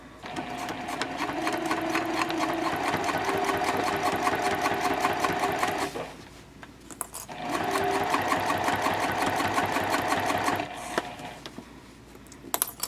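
A sewing machine stitches splash fabric for a fold-flat packing cube at a 3.0 stitch length, running steadily and loudly in two long bursts with a short pause between them.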